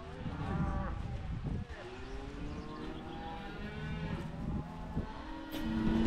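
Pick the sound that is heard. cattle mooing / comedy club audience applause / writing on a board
cattle mooing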